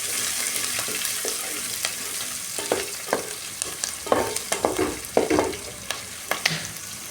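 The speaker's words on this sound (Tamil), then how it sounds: "கொஞ்சம் ரோஸ்ட் ஆகட்டும் வெங்காயம்." Onions sautéing in a pan for beetroot rice, a steady close sizzle with scattered scraping and clicking stir strokes that grow busier toward the end.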